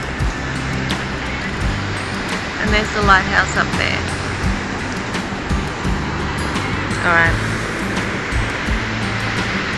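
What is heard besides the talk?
ocean waves breaking on Lighthouse Beach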